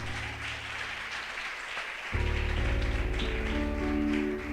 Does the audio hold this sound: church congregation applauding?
yes